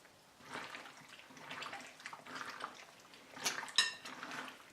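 Deer meat being mixed by hand in brine in a bowl for jerky: soft wet sloshing and squelching in uneven bursts, ending in a brief clink against the bowl, quiet and close.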